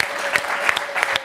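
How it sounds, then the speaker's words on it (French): A French audience claps for improv comedians Odah and Dako, quick dense applause with individual sharp claps and a few cheers standing out, close and lively. "que je vous demande d'applaudir"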